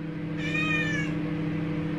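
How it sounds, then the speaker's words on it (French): A cat gives a single drawn-out meow, close and clear, over a steady low indoor hum, with no talking. "Mais qu'est-ce qu'elle a miaulé comme ça celle-là?"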